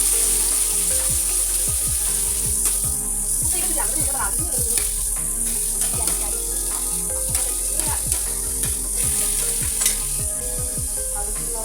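Hot oil sizzles loudly in a heated wok (karahi) while frying, a dense continuous crackle with repeated sharp spatters and stirring clatter, close up throughout.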